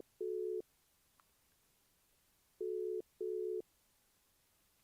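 Phone call tone heard while calling without ringing: three steady mid-pitched beeps, one near the start and a close pair later, each under half a second, separated by quiet gaps.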